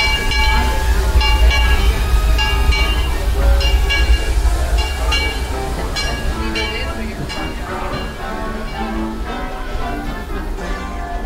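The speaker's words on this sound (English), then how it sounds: "first time seeing a real train" Disneyland Railroad train pulling into the station at a theme park, a steady mechanical rumble with hissing and tonal squeals over crowd chatter and people talking nearby.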